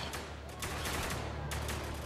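Gunfire in Spec Ops The Line, rapid bursts of close, loud shots with short pauses between them over a dense din, with no talk.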